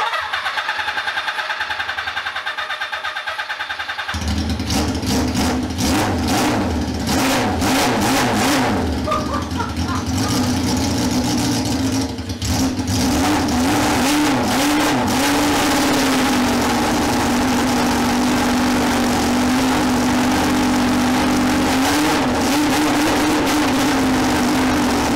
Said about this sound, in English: Malcolm, start that engine.